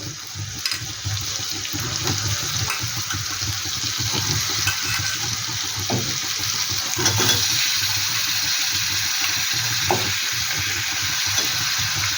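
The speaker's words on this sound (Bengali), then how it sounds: "এবার দিয়ে দিচ্ছি চিকেনটা" Chicken goes into a hot pan for a home-style Bengali chicken curry and sizzles steadily, a continuous frying hiss with faint scrapes and clicks of stirring, close and alone without talk.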